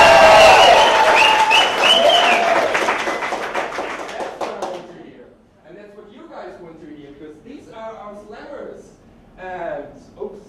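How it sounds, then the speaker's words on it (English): Loud, enthusiastic audience applause and cheering at a science slam in Colorado Springs, dense clapping for about five seconds before fading, followed by a voice speaking alone. "how does a really enthusiastic, amazing stage 10 applause sound here in Colorado Springs?"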